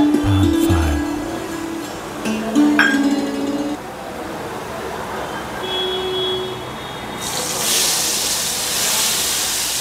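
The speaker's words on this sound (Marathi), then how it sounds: "आता या फोडणीत तुपाच्या फोडणीत लसूण, आता लाल तिखट घातलं जाईल" Metal utensils clink, then a loud hissing sizzle bursts up near the end as garlic and red chili powder hit hot ghee in a pan.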